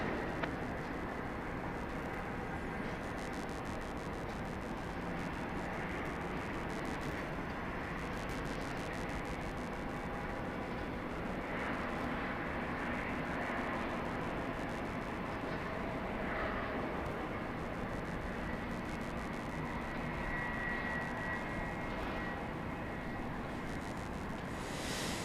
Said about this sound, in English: We got a Cessna Citation CJ3 from San Antonio, Texas, about to touch down.